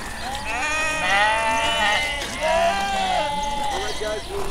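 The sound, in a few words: East Friesian sheep bleating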